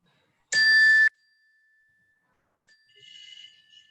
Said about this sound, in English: Can we please have the bell played?